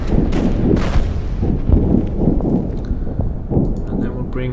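Gunfire aimed at an anti-tank gun in the war strategy game Order of Battle, several sharp cracks and booming reports scattered irregularly across the stretch over a dense rumbling battle background.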